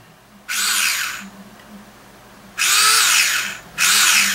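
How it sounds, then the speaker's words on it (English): A Tamiya handy drill, a small hobby drill fitted with a collet chuck, whirs in two loud bursts of steady high-pitched motor whine with a short pause between, then a third burst starts near the end. "She works."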